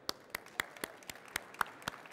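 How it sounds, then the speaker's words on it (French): A small audience at a 2011 environmental business awards ceremony gives scattered, quiet applause, with about eight separate hand claps spread unevenly over two seconds and no talking. "On peut l'applaudir."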